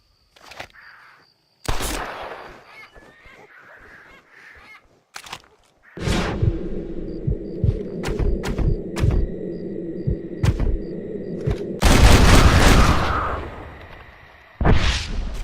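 Gunfire in the Red Dead Redemption video game cracks out at birds flushed into the air, with loud separate shots, a few sharp bursts and a sustained rumbling stretch, set between quiet gaps.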